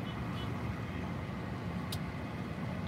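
Quiet, steady engine and road rumble of a car moving off slowly during a driving lesson as the clutch is eased out, a low continuous hum with no talk.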